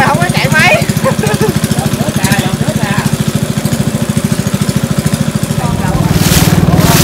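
Boat engine running steadily with a loud, close, rhythmic chugging on a trip past mangrove forest toward Tran De port in Cu Lao Dung, swelling slightly near the end.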